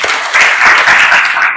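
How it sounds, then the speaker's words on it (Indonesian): Classroom students break into brief, dense applause, a steady wash of clapping from many hands nearby, with no talk over it. "Ya, tepuk tangan untuk semuanya."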